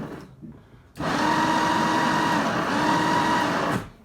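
Electric motor of a Sinclair C5 runs with the wheel lifted off the ground, a steady whirring whine that starts abruptly, holds evenly for nearly three seconds, then cuts off, heard close with no talking.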